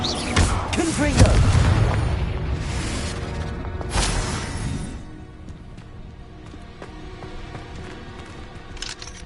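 Confringo explosion spell cast in Hogwarts Legacy: a loud booming blast with a whooshing burst in the first seconds, a second sharp crack near four seconds, then a fading rumbling tail; a voice speaks over the start.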